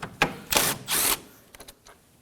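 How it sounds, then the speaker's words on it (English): A 10mm bolt is being removed with a socket from the AC condenser area of a 2016-2020 Kia Sorento 2.4L, heard as short close ratcheting and rattling bursts separated by quiet gaps, with no talking. "Using a 10mm socket, go ahead and take it out."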